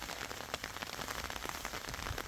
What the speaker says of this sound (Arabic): نقرب لكم شوية الشتا من المناظر